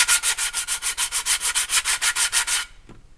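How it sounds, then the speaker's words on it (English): A DIY mini charcoal chimney being sanded by hand, with about sixteen quick, even scraping strokes in a steady back-and-forth rhythm, loud and close, then a sudden stop and a faint knock. "Figured I'd give you a shot of me sanding this."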